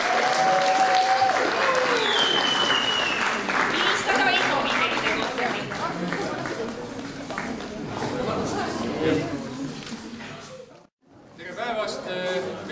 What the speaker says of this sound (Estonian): Teeme neile suure aplausi, nad tulevad.